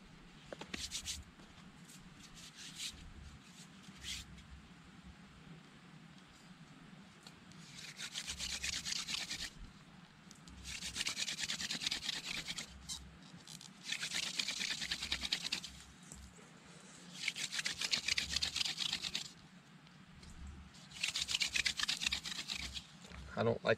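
A wooden spindle is driven in a friction fire socket outdoors, giving bursts of harsh rhythmic rubbing and scraping that come in repeated strokes and pause between them, with faint background noise.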